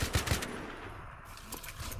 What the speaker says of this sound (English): I have a sniper rifle. Yes, I did fire that